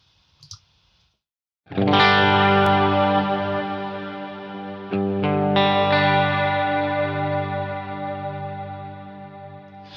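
Distorted electric guitar chords ring out loud and sustained through a stereo delay effect at 50% mix, echoing repeats smearing each strum before slowly decaying; brief clicks precede them.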